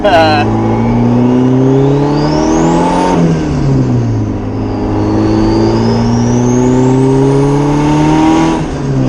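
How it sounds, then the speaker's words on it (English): A twin-turbo Honda Civic pulls hard under throttle, its loud engine drone climbing, dipping and climbing again with a rising turbo whistle and the wastegate opening, close and continuous throughout. "heard a wastegate open there"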